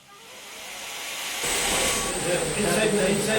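Pumps in an anaerobic digestion plant pump room run with a rising broad hiss and mechanical whir that swells louder partway through and holds steady, close and continuous.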